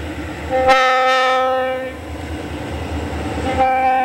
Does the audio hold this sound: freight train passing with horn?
yes